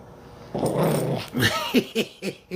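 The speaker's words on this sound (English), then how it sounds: "She's growling." A dog growls low and rumbling, then breaks into short yips and whimpering grunts, close and fairly loud.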